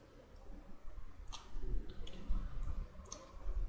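Mouse clicks on a computer during Unity editor work, several quiet, sharp ticks spaced unevenly over low room noise.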